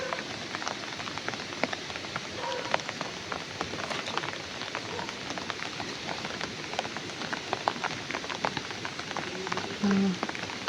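Heavy rain pours steadily and loudly, a dense hiss of drops drumming on a surface throughout.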